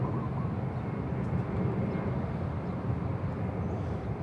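A MyAir airliner taxis at Bangkok Suvarnabhumi Airport, heard as a steady, broad, low engine rumble from a distance that holds evenly throughout with no voices over it.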